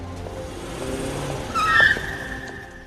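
In a scene from the 2015 film Focus, a car rushes up and brakes hard to block someone's way, its engine rumble rising into a sharp tire squeal that then fades.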